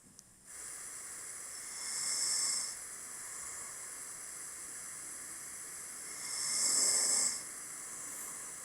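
Snoring recorded overnight, played back through a Galaxy smartphone speaker: two slow, breathy snores several seconds apart, each a hissy swell rising and fading over steady faint background hiss.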